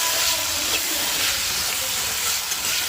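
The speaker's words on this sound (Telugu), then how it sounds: "ఇంకా పొటాటోస్ అయితే వేసుకొని బాగా ఫ్రై చేసేసుకోవాలి" Potatoes frying in a pan give off a steady, close, loud sizzle and hiss that runs unbroken with no voices.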